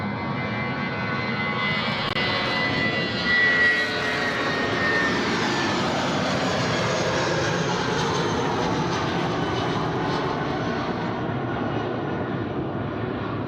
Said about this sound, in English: Jetstar now getting away.